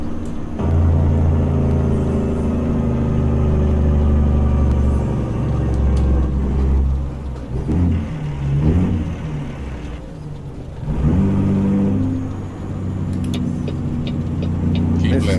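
A Caterpillar C15 truck engine in American Truck Simulator, a loud deep droning rumble that dips and surges with gear changes and downshifts, with someone talking intermittently over it.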